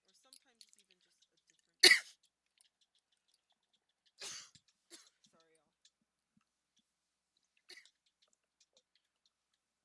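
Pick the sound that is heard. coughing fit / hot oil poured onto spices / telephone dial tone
coughing fit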